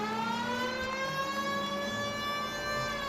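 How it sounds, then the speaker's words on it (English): A police car siren wails in the LA Noire video game on PS4, a sustained steady electronic tone rich in harmonics that runs through the whole stretch with faint engine rumble underneath. "Can we hit the siren, Phelps?"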